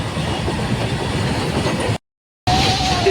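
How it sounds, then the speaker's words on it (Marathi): A passing train rumbles loudly and close, its railcars rattling with steady clickety-clack, cut by a brief silent gap before the noise resumes. "यायला कधी ट्रेन पाहिलं नाही तर ट्रेन दाखवून राहिले."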